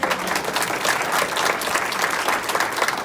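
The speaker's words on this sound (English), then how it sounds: "Can we all give a round of applause for wonderful Maria Roberts?" Steady applause from an audience at a political endorsement event for Congressman David Trone in Gaithersburg, dense and continuous for about three seconds with a faint murmur of the crowd mixed in.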